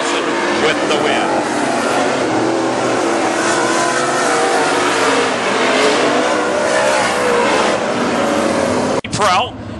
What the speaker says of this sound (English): Modified racing action scheduled for 20 laps, fans.